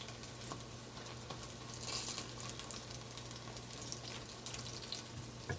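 Cod fish fritters fry in hot oil, giving a soft, continuous crackle and sizzle at low volume with a few brighter pops, heard alone and fairly close.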